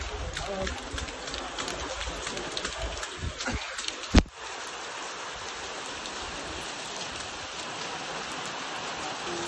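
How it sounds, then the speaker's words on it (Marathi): Heavy rain pours steadily in Mahabaleshwar as a dense, close hiss, broken by a sharp knock midway, with the downpour continuing unchanged. "पाऊस मध्येच खूप जोरात वाढलेला आहे"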